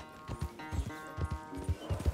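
Rhythmic hoofbeats of a horse galloping in Red Dead Redemption 2, steady repeated thuds at a quick pace over a low background hum.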